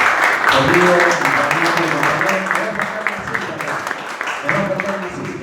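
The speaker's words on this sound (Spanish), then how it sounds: "un aplauso para Pocho, por favor" Audience applause greeting the arriving secretary of human rights at a presentation in La Rioja, steady crowd clapping throughout with voices talking over it.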